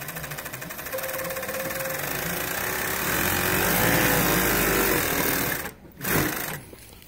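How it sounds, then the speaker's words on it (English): Sewing machine fitted with an adjustable folder attachment runs in a steady, continuous whir of stitching, fairly loud and close, pausing briefly near the end before restarting. "And then start sewing."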